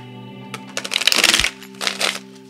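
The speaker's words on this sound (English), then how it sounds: "I'm gonna give it one more shuffle here." Tarot cards shuffled by hand in a couple of quick crisp bursts, snapping and fluttering, over a steady soft musical hum in the background.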